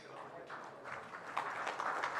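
An audience at a panel discussion on MSMEs claps to welcome a speaker back, a dense wash of applause that builds slightly over its length, blended with crowd murmur.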